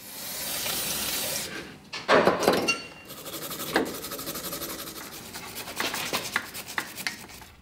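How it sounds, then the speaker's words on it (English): Old gasket residue is scraped off a carburetor and engine block mating surface: close, repeated rasping and rubbing strokes, with a few sharper scrapes and short pauses between passes. "I'm going to clean up both the carburetor and the block before we put it back on"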